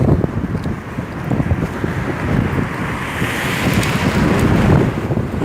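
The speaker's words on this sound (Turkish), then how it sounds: "Çok güzel rüzgar esiyor ya." Strong wind buffets the microphone in continuous gusty rushes, with a roaring low rumble throughout and no voices.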